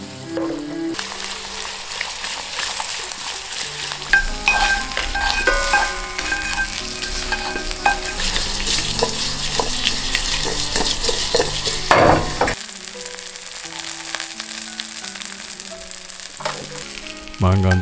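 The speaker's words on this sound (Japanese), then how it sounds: "水気がなくなったら鍋を混ぜて人参にツヤを出していく" Carrots sizzle steadily in a hot pot as the liquid cooks off, while a utensil stirs and scrapes through them, with a brief louder clatter partway through.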